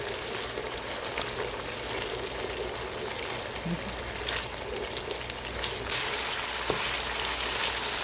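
Ginger paste and onions frying together in a pan for chicken korma, a steady soft sizzle running evenly throughout with a slight swell near the end.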